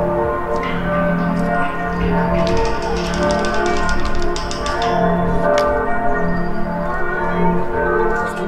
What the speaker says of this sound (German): die Glocken läuten